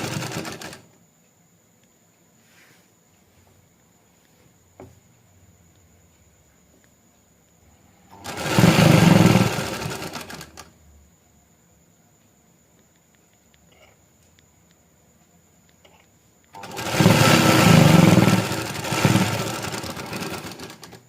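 A sewing machine stitching folded shalwar fabric, two bursts of a couple of seconds each, separated by quiet pauses.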